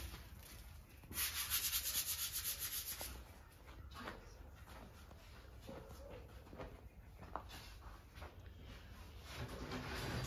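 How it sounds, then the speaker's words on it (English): Rough rubbing and scraping of sandpaper against a surface in short strokes, close by, with a brief louder burst early on and a few small knocks. "We're going to use it as a sanding thing."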